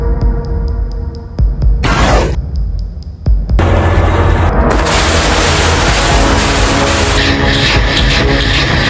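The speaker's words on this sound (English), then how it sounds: "using British M777 155mm field howitzers, 6A destroyed equipment and manpower" British M777 155mm field howitzer fire and shell explosions in Ukraine sound as sharp booming blasts, then a sustained loud roaring rumble that fills the rest of the stretch.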